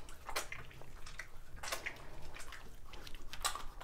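Hands are washed with soap and water at a sink after an oily scrub, giving soft, faint splashes and rubbing sounds in short irregular bursts.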